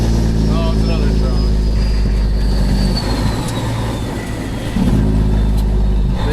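A heavy vehicle rumbles past nearby with a steady low engine drone and a faint high whine, loud and continuous throughout.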